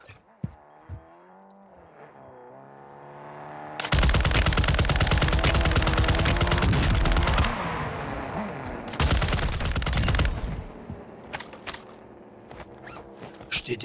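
An RLMG machine gun fires in long, loud, rapid bursts in a shooting video game, with crackling sustained volleys between short pauses and a voice talking underneath.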